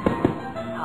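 Firecrackers go off in two sharp, quick pops close together, then a short fading tail of noise.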